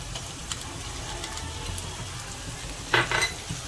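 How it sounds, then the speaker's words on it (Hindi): Onions fry with ginger garlic paste in a pan, giving a steady broad sizzle throughout, with a short louder scraping stir near the end and no talking. "तो प्याज अभी थोड़ी सी ब्राउन होगी, तब देखेंगे आगे का प्रोसेस। हम लोग इसमें अदरक लहसुन का पेस्ट"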